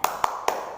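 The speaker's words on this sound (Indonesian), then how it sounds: "Tepuk lebih semangat." Children in an online class give three sharp, evenly spaced claps in quick succession, close and fairly loud.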